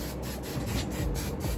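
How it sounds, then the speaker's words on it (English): Pink holding spray is misted onto natural hair in a continuous close hiss with slight pulsing, alone and fairly loud. "We're going to spray some of this holding spray."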